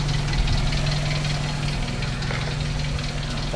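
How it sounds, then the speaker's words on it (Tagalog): Car engine at cold start, idling steadily with a rattly valve tick and knocking over a low hum, close and continuous, no voices. "Ingay ng balbula."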